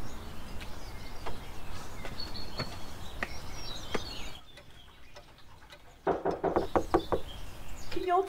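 Several sharp knocks rap on a door at a steady pace over low background noise, with a louder cluster of knocks near the end.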